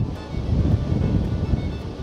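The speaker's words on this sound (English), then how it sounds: "Bit of sunshine trying to peek through, but goodness, it's very windy." Strong wind gusting across a house rooftop where solar panels are being fitted, a steady loud roar buffeting the microphone with low rumbling surges and no clear voices.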